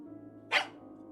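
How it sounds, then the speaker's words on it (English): A single short dog bark, sharp and close, from the video game Tiny Bunny, standing out above a low steady hum of background ambience. "the dog barked in agreement and stopped messing with the mitten"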